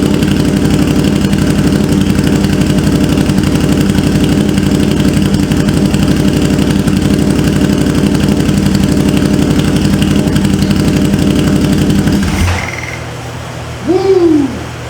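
A 2009–2014 Can-Am Spyder RS engine runs very loud with no exhaust fitted, a harsh steady close-up roar that cuts off abruptly near the end, leaving a brief quieter tail.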